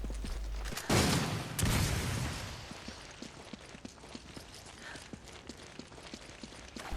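Two flash rounds fired in Resident Evil 5 burst out loudly in quick succession near the start, followed by lighter scattered clicks and game noise trailing off.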